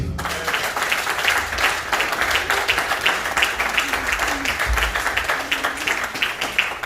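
A church congregation applauds during a sermon, dense steady clapping from many hands filling the space at a loud, even level with faint voices mixed in.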